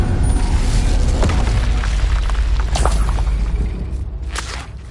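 Incendio fire spell cast in Hogwarts Legacy, a loud, sustained whooshing roar of flame with a deep rumbling boom that fades slightly toward the end, no voices.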